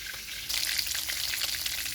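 Whole cumin and bay leaves hitting hot oil in a pan, a quiet start then a sudden steady loud sizzle that holds close and continuous.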